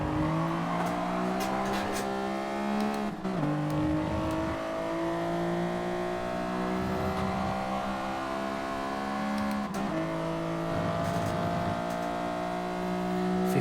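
Race car engines in Gran Turismo Sport at the Sardegna circuit whine at high revs close by, pitch climbing steadily and dropping sharply at gear shifts a few times.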